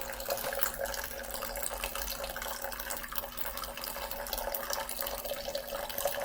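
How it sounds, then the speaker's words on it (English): Water pours steadily into a French press coffee maker, a continuous close splashing and trickling stream with no one speaking. "I just pour in the water like this until it fills up completely"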